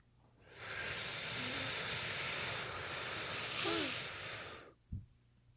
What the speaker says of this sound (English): Let's go ahead and take a deep breath in.